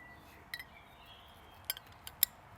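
A few soft glass clinks from a toast outdoors by a campfire in the woods, brief separate taps over a quiet background.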